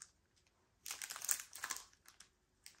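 Diamond painting kit packaging, a 30 by 40 canvas set, crinkles as it is opened, with a dense burst of plastic rustling and crackling after a quiet start, then a few scattered softer crinkles.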